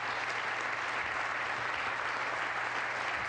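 A large audience at a presidential address to Congress applauds in a steady, dense wash of clapping that holds evenly throughout, heard at a distance, with no talk over it.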